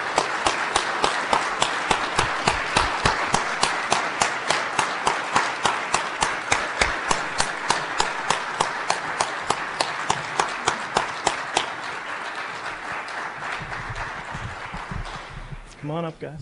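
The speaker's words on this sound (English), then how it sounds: "Let's get a little bit of a round of applause for these people" A crowd at a cybersecurity summit claps steadily for several seconds, dense rhythmic applause that fades out, with a brief voice at the end.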